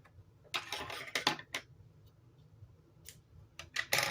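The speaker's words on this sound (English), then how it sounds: "At this point, I'm going to cut my color A" Scissors snipping knitting yarn while working a Fair Isle glove border, a few crisp separate clicks and snips spaced over a few seconds, close and fairly quiet.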